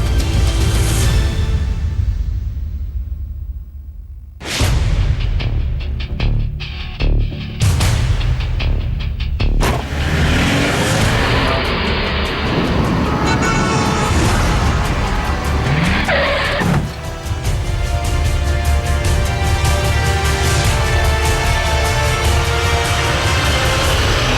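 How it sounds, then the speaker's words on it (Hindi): A car drives hard and crashes into something: loud revving and squealing tyres, a sudden break, then rough engine noise, rattling impacts and grinding that continue as a dense, close roar. "इसने गाड़ी ठोक दी"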